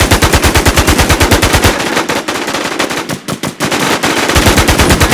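Rapid, loud automatic gunfire from the Thai server of the survival shooter Infestation, steady bursts at the start and end with a rougher, broken stretch of shots in between, no talking.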